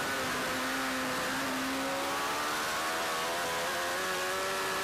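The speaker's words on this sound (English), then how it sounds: "Hear the bike just getting a little bit of wheel spin off the turn there." A racing motorcycle at the Isle of Man TT, heard onboard as it pulls out of a turn, with a loud, steady engine whine whose tones climb as it accelerates, with a little wheel spin.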